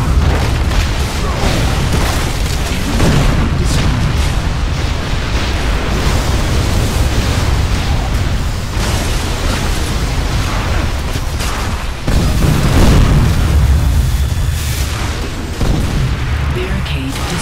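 A barricade blows apart during an Unreal Tournament 3 multiplayer match on the Downtown map, as heavy booming blasts roll under continuous battle noise and an announcer voice.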